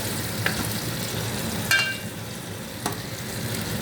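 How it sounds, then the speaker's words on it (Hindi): Onions frying in oil over high heat give a continuous hissing sizzle, with several sharp crackles and spoon scrapes breaking through the steady frying. "इसके अंदर प्याज डाल दी मैंने। तेज़ आंच पे मैं इसे लाल करूँगी।"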